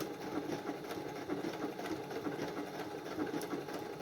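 A sewing machine stitches fabric for a harvest-themed sewing project, a steady close motor whir with a fast rhythmic needle clatter running evenly throughout, with no voices.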